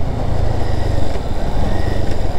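Bajaj Avenger 160 Street motorcycle cruising at close to 100 km/h, its engine drone and wind rush loud, steady and close throughout.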